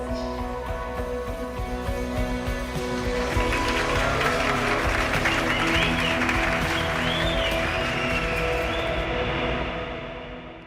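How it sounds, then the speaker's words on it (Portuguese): Guests at a wedding party applaud amid a festive din, the clapping building after a few seconds into a lively, sustained crowd sound with voices and cheers mixed in, then fading. "Esses aplausos e o clima festivo que você ouviu são da festa de casamento do irmão mais novo da Cristina, o André"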